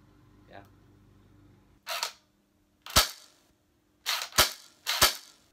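An airsoft gun fired with no pellets loaded gives four sharp, loud snapping pops, with a quick double shot near the end, following a soft voice at the start.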